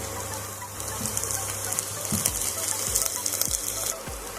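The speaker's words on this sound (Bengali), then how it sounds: "পেঁয়াজের সঙ্গে এটাকেও ভালোভাবে কষে নিতে হবে। যতক্ষণ না আদা রসুনের কাঁচা গন্ধ যাচ্ছে ততক্ষণ পর্যন্ত খুব ভালো করে এটাকে ভাজতে হবে।" Ginger-garlic paste frying with onion in a pan for spicy chicken kosha, a steady broad sizzle with several soft stirring scrapes and knocks spaced through it, close and moderately loud, with no talking.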